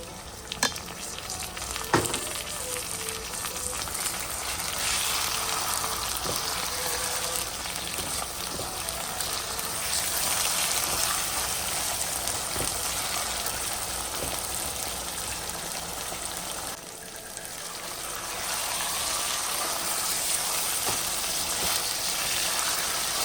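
Beef mince sizzles loudly as it goes into a pan of frying onions for keema aloo matar, a steady close hiss with faint stirring scrapes, no talk.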